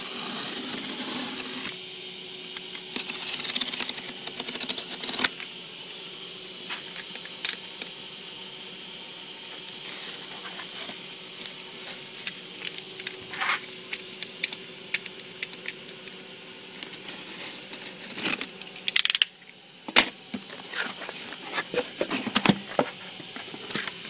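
A package being unboxed and opened at close range, with light tapping, crinkling and rustling of cardboard and packing material plus occasional sharper clicks and tearing over about twenty seconds, with no talking.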